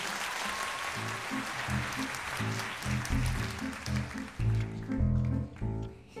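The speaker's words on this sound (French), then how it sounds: "Mesdames, messieurs, je vous demande d'applaudir Anaïs." A studio audience applauds a child singer named Anaïs on a televised children's show, the clapping running under a rhythmic low musical accompaniment that starts up with it.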